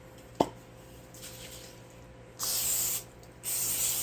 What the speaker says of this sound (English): a good spray with the old cooking spray there